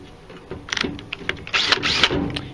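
A close, rattling impact drill hammers in quick bursts, loosening a screw on a LiftMaster garage door opener, with a whirring motor and a louder burst near the end.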